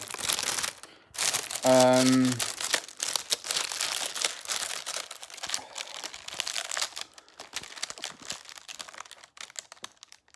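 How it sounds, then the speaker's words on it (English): Crinkly plastic packaging is unwrapped close up, a busy stream of rustling and crackling with a short voice sound partway through. "I'm just trying to unwrap this without dropping them all over the floor."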